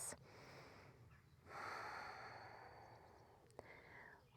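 Deep breathing during a yoga stretch, with a long, soft inhale swelling and then easing into a quiet exhale, close and faint, followed by a brief sharp sniff.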